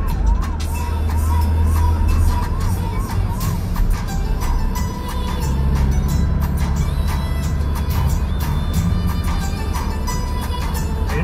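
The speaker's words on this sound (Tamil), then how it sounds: "ஹைவே பெட்ரோல் வண்டி தான் போயிட்டு இருக்கு." A highway patrol police car siren wails continuously during a car chase, loud and close, with a rising-falling tone over road and engine noise and some background chatter.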